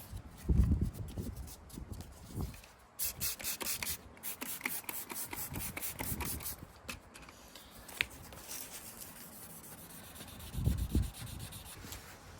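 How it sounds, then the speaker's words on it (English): A BMW E91/E92 headlight lens being wet-sanded by hand with 2000 grit paper, a steady close scratchy rubbing with back-and-forth strokes, continuous and moderately quiet with no talking. "So with this one I'm going to hit it with some 2000"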